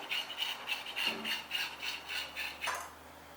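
A yufka pastry sheet cut down the middle, a rhythmic series of short rasping strokes close by, evenly spaced and moderately loud, ending with a brief tap, no one talking.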